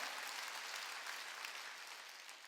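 A church congregation at a Wednesday worship service applauds, giving a steady, dense wash of clapping that holds evenly at moderate level for the whole stretch with no voices over it.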